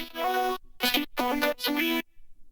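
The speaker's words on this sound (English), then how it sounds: "The vocoder sounds like this." A robotic, synthesized vocoder voice sings four short sustained syllables in a pop electronic track, bright and buzzy, close and up front, then falls silent.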